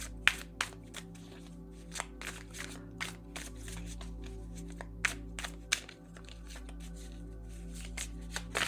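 Playing cards shuffled and dealt at close range: a run of crisp riffles and sharp snaps repeating every second or so over a steady low hum, with no talk.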